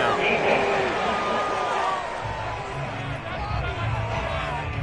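Home stadium crowd in Madden 22 reacting to a penalty call in a Jaguars franchise game, a broad roar and murmur of cheering spread across the stands, moderately loud, with commentators talking over it.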